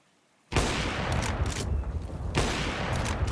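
Two AWP sniper rifle shots in a Counter-Strike match fire close and loud, one sharp blast followed by rumbling tail and a second crack about two seconds later.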